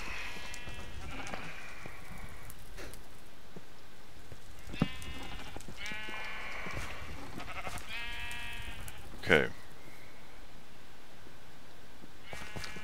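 Sheep in Minecraft bleat several times in a row, wavering calls at moderate distance over soft ambient noise, with one brief spoken word.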